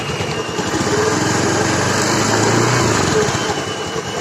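A Honda Scoopy FI scooter engine runs steadily at close range, its light high-pitched drone carrying a strange noise from around the CVT area, with no talking over it.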